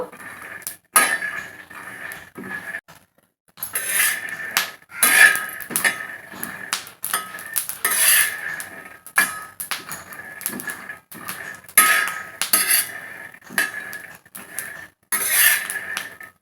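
Peanuts being dry-roasted and stirred in a pan until reddish for chutney powder, giving repeated metallic scraping and rattling clinks in irregular bursts with short pauses, close and fairly loud, no talk.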